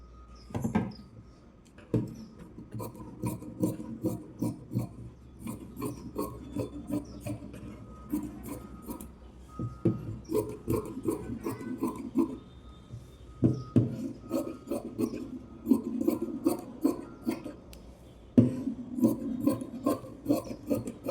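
Scissors cutting crosswise through blouse lining cloth on a table, close and continuous, with repeated rasping snips in steady bursts over about twenty seconds, no voices.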